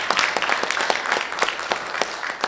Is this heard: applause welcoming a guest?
yes